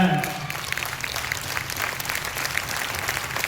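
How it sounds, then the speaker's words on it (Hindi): An audience at a hosted award event in Bhagalpur claps steadily, a dense even wash of applause that fades slightly after a brief voice at the start. "अपने हाथों को उठाइएगा और अपनी प्रेजेंस को अपनी क्लैपिंग से साबित करिएगा कि आप हैं"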